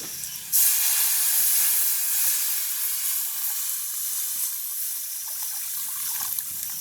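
Onions, curry leaves and chillies fry in a village kitchen pan as coconut milk goes in for upma, setting off a sudden loud sizzle that keeps hissing steadily. No one speaks.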